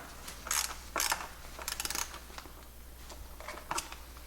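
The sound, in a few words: ratchet tightening Polaris RZR seat mount bolts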